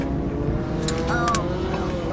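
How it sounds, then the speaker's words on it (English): A Dodge Hellcat Redeye fitted with a Corsa performance cold air intake roars loudly on a pass, its supercharger whine rising briefly over the engine drone. "You definitely can hear the whine louder, way louder."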